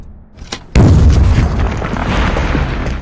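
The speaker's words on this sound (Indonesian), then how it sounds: "Tiba-tiba mereka pun dikejutkan oleh sebuah ledakan dari jebakan yang telah Jack pasang" A sudden loud boom from an exploding trap bursts out after a brief quiet, followed by a long rumbling roar that fills the rest of the moment.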